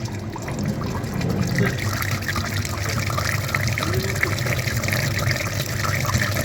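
Water trickles and pours steadily while a clogged car cabin heater filter is rinsed, a continuous close wash of running liquid with a voice faintly present.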